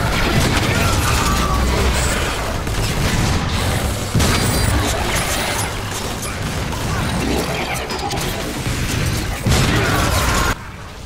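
Loud, booming shotgun fire in Transformers: War for Cybertron, with mechanical clacks and crashes running continuously, heavy blasts landing every second or two.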